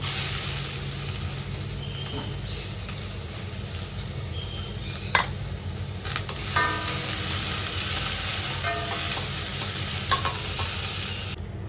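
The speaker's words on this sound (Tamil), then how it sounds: "இப்போ வெங்காயம் பச்சை மிளகா வரமிளகா போட்டுக்கலாங்க" Sliced onion with green and dried red chillies frying in hot oil over mustard seeds and urad dal, a steady close sizzle with stirring scrapes throughout and no talk.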